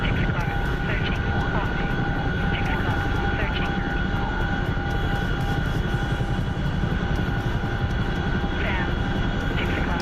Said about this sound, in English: Fullback is a very elite strike fighter.